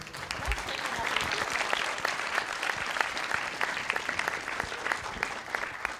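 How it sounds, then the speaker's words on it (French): Audience applause for a guest speaker at an evening science film-club screening, a steady dense patter of clapping sustained evenly for the whole stretch at moderate distance. "On peut applaudir Sylvie."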